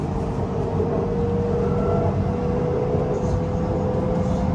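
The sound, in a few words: metro train departing station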